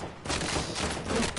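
Gunfire from the video game Fortnite during a squad match sounds as a short dense burst of sharp cracks and rumble lasting about a second, loud and up close.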